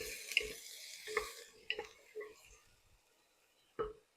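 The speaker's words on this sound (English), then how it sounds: "Give my onions and carrots a stir here." Onions and carrots stirred in a pot on an induction burner, a few soft scrapes and light clinks spaced apart with a faint sizzle, close and quiet.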